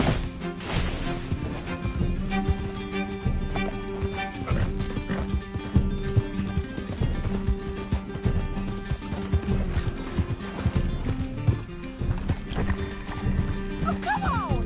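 A horse gallops in the video game Red Dead Redemption 2, with steady rhythmic hoofbeats running throughout alongside a tonal game music score, holding a moderate level.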